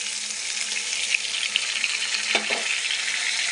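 Ground spice paste frying in a pan for a paneer dish, a continuous close sizzle with a few soft stirring scrapes, no voices.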